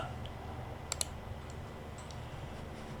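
A computer mouse clicks in a website site editor: two quick, soft clicks close together, faint against a steady low background hum.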